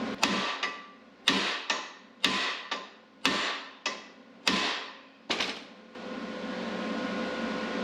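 A steel sleeve is struck seven times with a hammer to drive a rear control arm bushing home on a crate racing street stock car, each sharp ringing blow fading out before the next, close and loud, followed by a steady hiss.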